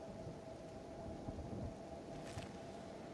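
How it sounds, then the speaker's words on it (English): Thunder from a lightning storm in Kenshi rolls as a low, continuous rumble under rain-like hiss and a faint steady hum, with a brief brighter crackle partway through. "Lightning, curious if it's going to strike us."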